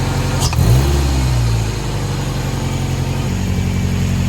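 A Honda K-series engine swapped into a Fiat 124 Spider idles loudly and steadily up close, with one quick throttle blip that lifts the revs briefly before settling back to a rough, even idle.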